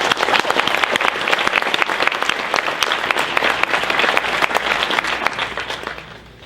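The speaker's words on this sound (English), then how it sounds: "Let's give these guys a round of applause." Sustained applause from a banquet crowd honoring inductees at a National Wrestling Hall of Fame chapter dinner, dense steady clapping at close range that holds for several seconds before thinning out at the end.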